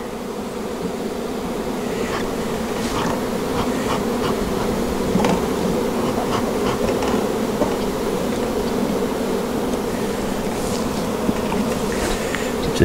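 Honey bees buzz steadily and close throughout an open hive inspection, a dense continuous drone with no talk over it.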